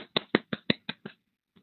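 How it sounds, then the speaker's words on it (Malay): About seven sharp hand claps sound at a steady, fairly quick pace during a live online webinar, then stop, with one more faint clap at the very end. Close and fairly quiet. "Padu tepuk tangan sikit lah."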